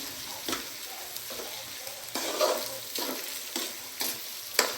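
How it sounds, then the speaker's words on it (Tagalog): Beef cube gets stirred into meat frying in a pan, with scraping spoon strokes every second or so over a steady sizzle, close up and with no talk. "Mix it. As the cubes will incorporate its flavor on the meat."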